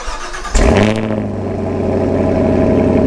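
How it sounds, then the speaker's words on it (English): A 2021 Chevy Camaro engine turns over with a sharp burst, then settles into a steady, loud low rumble as the car pulls away, with no talking. "So guys, let's hop in the Camaro, let's go for a ride."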